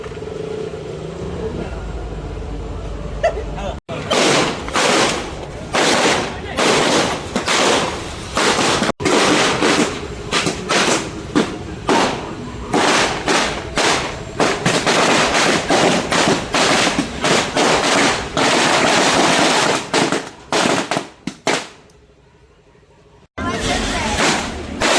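Firecrackers go off in a long, rapid string of sharp bangs at a crowded village festival in Jaffna, the blasts loud and close, ending in a short pause and a final burst, with crowd noise around them.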